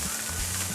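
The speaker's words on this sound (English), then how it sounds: "We're just moving it to get it to turn brown." Hamburger meat browning in a pan, a steady dense sizzle that holds evenly through a very short moment, close and loud.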